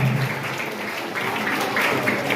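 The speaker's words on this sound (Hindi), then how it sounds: "बच्चों से गुजारिश है कि बेटा तालियां बजाएं" Children clapping at a school award felicitation ceremony for 10th and 12th graders, a dense, steady patter of many hands filling the room throughout.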